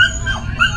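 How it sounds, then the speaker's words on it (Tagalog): A pet dog gives short barks and whining whimpers in quick bursts, fairly close, with faint background noise. "Ang ingay na aso namin"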